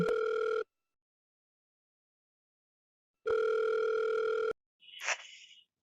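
A telephone earpiece plays a steady dual-tone signal in two bursts separated by silence, then a short softer electronic chirp follows, all close and clean with no talking.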